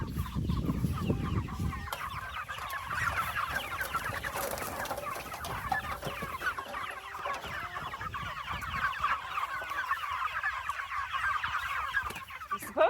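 Chickens cluck and murmur continuously on a family homestead, with close, busy overlapping calls and a few louder squawks throughout.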